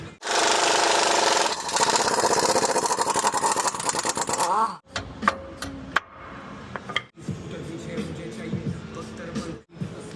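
A power tool works loose a nut on the front brakes of a 2022 Ford E450 van. A loud, sustained rattling whir gives way to short bursts and clanks, with speech mixed in.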